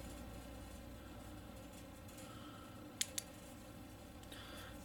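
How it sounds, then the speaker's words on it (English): Two crisp clicks, a fraction of a second apart, from the button of a small flashlight with a deep-carry pocket clip, set against a quiet, steady room hiss. "So press the button momentarily, or you could click it to have it stay on."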